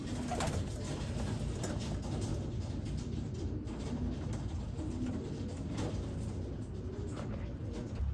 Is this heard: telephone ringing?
no